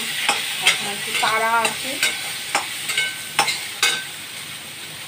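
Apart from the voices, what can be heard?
potatoes frying and stirred in a pan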